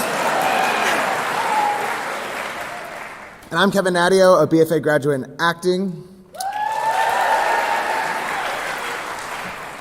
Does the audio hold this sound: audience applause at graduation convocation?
yes